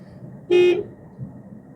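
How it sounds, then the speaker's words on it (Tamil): One loud, blaring car horn honk lasting a moment over low engine rumble. "ஹார்ன் ஒரு முறை லாங்காக"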